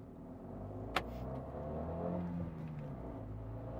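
A Fiat 500C Sport with a 0.9 TwinAir turbo engine and a sporty single exhaust drives by, its engine rumbling steadily and swelling slightly as it passes, with one brief sharp click early on.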